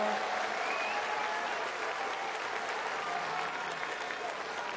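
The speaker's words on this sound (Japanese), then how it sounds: "この大歓声です。" A large crowd at a Yakult vs Giants baseball game in Japan applauds and cheers steadily during a hero interview, a dense wash of clapping and voices that holds at an even level throughout.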